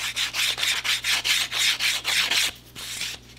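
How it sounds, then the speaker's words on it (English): Small balsa wood pieces are hand-sanded in quick, even back-and-forth strokes, about ten rasping passes close to the mic, slowing and softening toward the end. "Go ahead and sand these."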